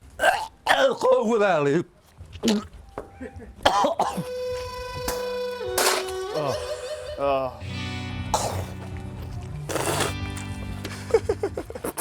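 Several harsh coughs and throat-clearing bursts mixed with chatter and background music, close and fairly loud.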